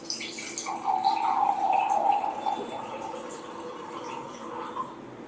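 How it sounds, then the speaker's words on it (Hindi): Alkaline water from a portable jar pours into glasses, a soft close trickle and splash that swells then tapers over a few seconds with no talking. "अब यही तीनों में हम हमारा अल्कलाइन एक्वावेदा जो पोर्टेबल जार है उसका पानी ऐड करते हैं"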